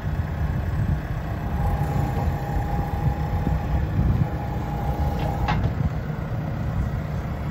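A Genie 5519 telehandler with a Deutz diesel engine runs steadily close by while its arm reverses, a constant low engine drone with a faint hydraulic whine and brief higher tones midway.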